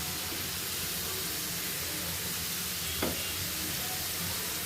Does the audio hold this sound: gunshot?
no